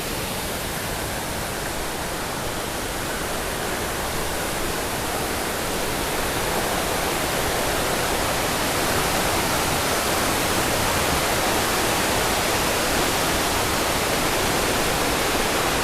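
Cascading rainforest waterfall in Oriental Mindoro, a steady, dense broadband roar of falling water that fills the whole clip, close and loud, with no break and no voices.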